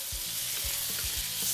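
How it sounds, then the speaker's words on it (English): Pork sizzles steadily in a hot pan during stir frying, a continuous bright hiss punctuated by a few low knocks of stirring, close and alone without talk. "It's called stir frying because you stir while you fry."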